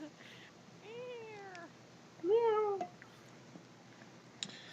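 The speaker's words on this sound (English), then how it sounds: "She's a meowsing right now." A pet cat meows twice indoors, a drawn-out rising-falling call followed by a louder, shorter one, with quiet room noise and faint background sounds between.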